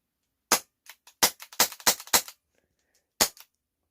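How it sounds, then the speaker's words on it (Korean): A low-cost gas airsoft handgun with its magazine inserted is dry-fired indoors: about eight sharp, light snapping shots, mostly in a quick irregular cluster, then one more after a pause, each crisp and close in near silence. "탄창 결합했다는 그 조건하에 격발해 보면은"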